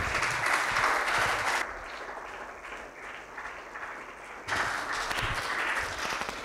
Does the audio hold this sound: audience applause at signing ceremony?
yes